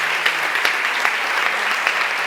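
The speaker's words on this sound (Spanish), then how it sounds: "vamos a pedir un fuerte aplauso a Sara, por favor" Steady applause from an audience at a book talk with author César Pérez Gellida, a continuous even patter of many hands throughout.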